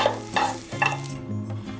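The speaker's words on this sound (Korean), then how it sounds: "수삼이 약간 노릇해질 때까지 볶아주세요" Fresh ginseng and jujubes stir-fried in a pan, a soft sizzle with periodic scraping strokes of stirring, close and moderately loud, with no talking.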